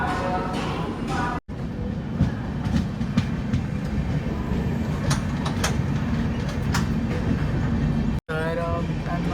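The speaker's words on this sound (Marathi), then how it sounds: "आपली जी ट्रेन आहे ती मिर्झापूरवरून निघाली." A Mysore Express train runs on rails with a loud, continuous rumble and rattle, rhythmic wheel clicks, and brief dropouts, while a person talks over it.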